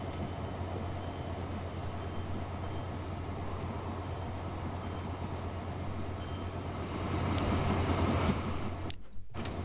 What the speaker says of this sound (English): I'm gonna do a little bit of train spotting at St. Blaise Station. So train just left.